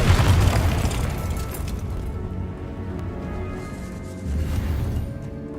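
A Confringo fire spell explodes in Hogwarts Legacy with a loud, deep boom that decays into a rumbling tail, then swells slightly again near the end; no speech.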